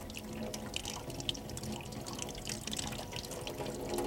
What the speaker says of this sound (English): I'll pour water, and you hold your hand out like that